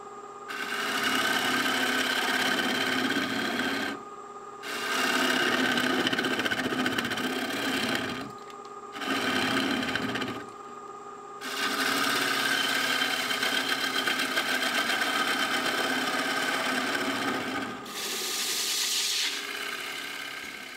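A wood lathe spins a natural-edge burl bowl, a steady motor whir with the gouge's cutting hiss, broken by a few short stops and restarts, close and fairly loud.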